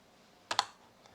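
Two quick, close clicks in quick succession from a mouse or keyboard at a computer running Rhino, against near silence.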